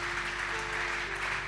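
Congregation clapping hands in praise of the Lord at a church service, a dense, steady wash of applause from many hands filling the room for the whole stretch, with no clear gaps.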